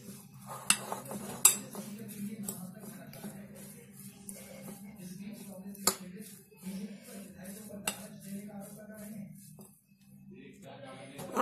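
A spoon stirs and scrapes green pea paratha stuffing in a bowl, scattered light clinks and metallic taps against the dish over a soft, steady kitchen background.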